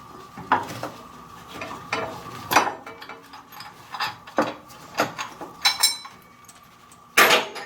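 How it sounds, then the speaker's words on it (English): A ratchet wrench backs a bolt out during a steering pump replacement, giving irregular bursts of close, crisp metallic clicking separated by short pauses, with a louder final burst near the end. "I've just got to take this bolt out here."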